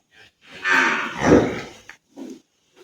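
A single loud, drawn-out moo from a nearby bull, deep and rising, followed by a brief shorter grunt.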